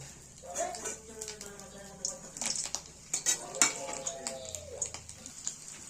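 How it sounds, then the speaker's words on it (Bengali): Besan-coated paneer pieces fry softly in a pan, with light sizzling, utensil clinks and stirring scrapes, while a person talks over it. "এইভাবে প্রত্যেকটা পনির আমরা ভেজে নেব"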